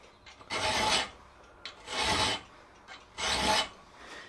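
A hand file rasps across steel while cutting a 60-degree bevel on a concave butcher chasing tool, with three long, even strokes in a steady rhythm, close and clear, with no voice.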